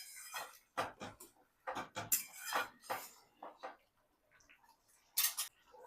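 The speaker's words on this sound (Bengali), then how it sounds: "সবগুলোকে আমি নেড়ে চেড়ে নিচ্ছি।" Gathi kochu (taro) and potato curry with sugar and garam masala stirred in a pan, a spoon scraping and clinking against the metal in irregular bursts, close and fairly loud, with quieter gaps between strokes.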